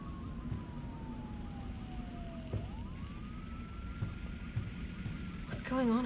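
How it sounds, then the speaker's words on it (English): A siren in the video game Resident Evil 3 wails in the distance, its tone sliding slowly down and then back up, over a steady low rumble of background noise. "There's a siren blaring outside."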